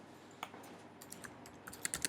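A password is typed on a computer keyboard: a quiet, uneven run of light key clicks, sparse at first and then a quicker cluster of taps at the end, with no voices.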